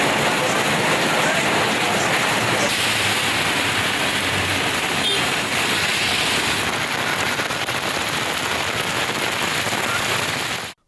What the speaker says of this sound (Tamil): நேற்று இரவு காற்றுடன் கூடிய பலத்த மழை பெய்தது.